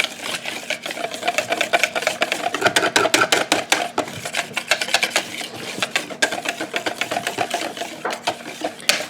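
Spoon or whisk mixing peach cobbler batter with cinnamon and vanilla in a bowl, a fast steady run of close scraping and clicking strokes that continues through the whole stretch.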